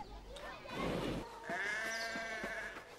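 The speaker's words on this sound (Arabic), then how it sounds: "بقرة وخروف." A sheep in Assassin's Creed Mirage gives a wavering bleat that lasts about a second, heard clearly against quiet in-game ambience.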